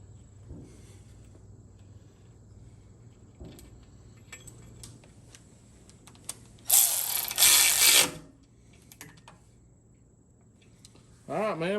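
A hand ratchet tightens a bolt on a TH400 transmission in a quiet garage, with two bursts of rapid clicking mid-clip and another at the end, separated by faint background noise.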